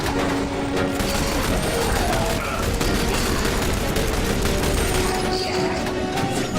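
Heavy gunfire from The Bureau: XCOM Declassified rattles nonstop, loud rapid bursts layered with booms and mechanical clatter filling the whole stretch.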